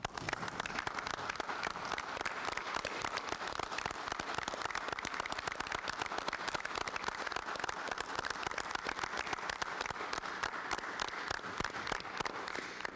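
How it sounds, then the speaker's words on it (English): Steady, dense applause from an audience honoring graduating senior athletes at a high school sports banquet, continuous clapping that holds at an even level throughout with no talk over it. "give a round of applause for our graduating senior athletes"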